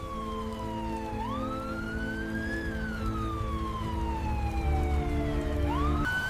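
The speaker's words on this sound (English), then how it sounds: "The ambulance rushed by." An ambulance siren passes during heavy rain, its loud wailing tone sweeping slowly up and down in pitch over a low rumbling engine and road noise, with no voices.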